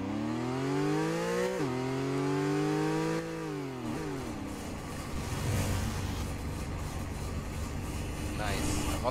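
An old-timer car engine in the Roblox game Wayfort drones with a steady harmonic hum that dips and rises in pitch over the first few seconds, then turns into a rougher, noisier rumble, loud and close throughout.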